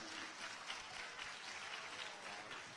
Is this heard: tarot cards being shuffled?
no